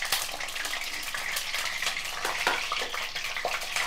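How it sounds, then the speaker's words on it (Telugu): Eggs fry in a pan with a bright crackling sizzle, broken by occasional sharper pops and utensil scrapes, close and fairly loud. "ఇప్పుడు ముందు గుడ్లు వేపేసుకుందాము."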